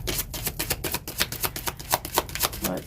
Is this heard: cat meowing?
no